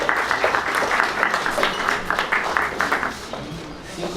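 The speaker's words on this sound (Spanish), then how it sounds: "fuerte aplauso." A crowd at an entrepreneurship fireside chat gives a steady round of clapping that fades slightly toward the end, with voices faintly audible beneath it.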